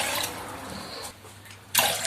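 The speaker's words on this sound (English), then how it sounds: "So I'm going to add 2 of these of water." Water pours steadily into a cooking pot for boiling rice, a continuous splashing rush that pauses briefly and then resumes with a louder gush.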